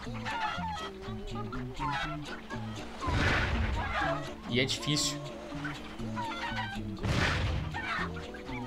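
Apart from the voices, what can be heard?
chickens clucking in a Crash video game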